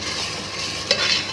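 Onions and chili sautéing in a pan, a steady close sizzle with a single sharp scrape or clink of a stirring utensil partway through.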